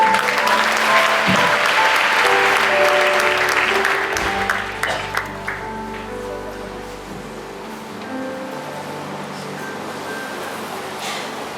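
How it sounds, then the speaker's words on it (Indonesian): A church congregation at GBI House of Sacrifice in Medan bursts into loud, dense applause that holds for about four seconds, then thins into scattered claps and room murmur. "Kita berikan tepuk tangan sekali lagi"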